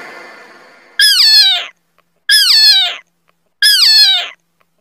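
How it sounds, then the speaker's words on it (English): A cat meows three times in a clear, evenly spaced sequence, each call loud, close and alone with silence between them. "C for cat."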